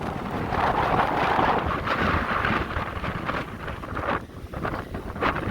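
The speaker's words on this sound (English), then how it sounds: "you can see that wind is really still ripping" Strong wind still blowing after Hurricane Zeta on Dauphin Island, a loud continuous roar buffeting the microphone with gusty surges throughout and no talking.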